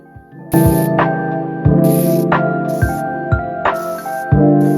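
Aerosol spray starch misted onto crochet pieces laid on a towel: five short, sharp hissing bursts at uneven intervals, close and loud, over a sustained tonal background.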